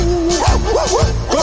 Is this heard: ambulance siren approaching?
no